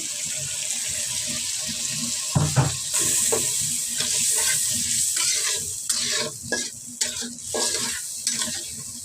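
Shrimp frying in a pan as a small amount of water is added, a close hissing sizzle with splashing and scraping stir strokes that grow choppier toward the end, no voices.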